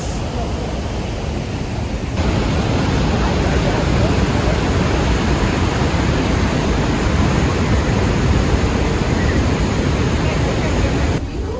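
Rhine Falls in Switzerland thunders with strong rushing water, a loud, dense and unbroken roar that fills the whole scene for the full duration.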